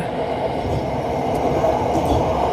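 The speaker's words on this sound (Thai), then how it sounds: "เราเห็นรถไฟฟ้าใส่สีม่วง วิ่งอยู่ด้วยนะฮะ" A purple line electric train runs past on an elevated track near Bang Son, a steady loud rumble of wheels and motors with faint clicks and no voices.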